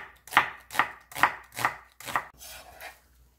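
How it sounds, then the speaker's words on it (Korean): A medium onion chopped on a board while making Korean onion and chive kimchi: five crisp, evenly spaced knife strikes sound close and clear, then a softer, scraping sixth cut as the rhythm trails off. "양파 중간 크기 1개 썰어줄게요"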